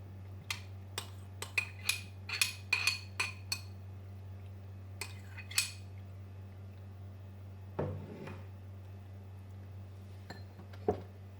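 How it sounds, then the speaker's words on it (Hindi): Sharp clinks of utensils against a plate come in a quick cluster, then sparser single knocks, as chicken pizza pasta is served onto a serving plate, over a steady low hum. "सर्विंग प्लेट में सबसे ये पहले पास्ता डालेंगे।"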